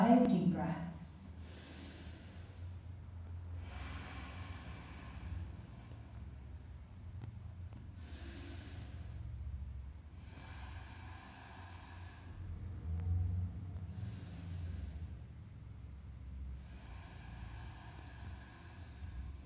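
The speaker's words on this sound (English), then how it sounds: "Let's take another 5 deep breaths." Slow, deep breaths during family yoga, several long airy inhales and exhales alternating with pauses, close and soft over a low rumble.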